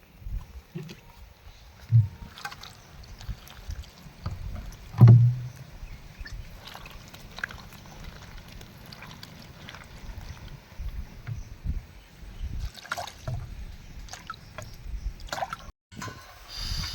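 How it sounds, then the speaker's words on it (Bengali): Elephant foot yam stems and jackfruit seeds are washed by hand in water, with quiet sloshing, dripping and splashing in irregular bursts close by. "এবার আমি ওলের ডাটা আর কাঁঠালের আটিটা ধুয়ে নেবো ভালো করে ধুয়ে নেবো"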